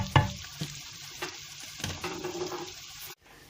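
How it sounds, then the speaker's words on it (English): Onion and grated ginger fry in a pan with a quiet sizzle, marked by a few spatula knocks and stirring scrapes, before the sound cuts off abruptly near the end. "add onion and ginger, grated ginger, and let it cook a bit."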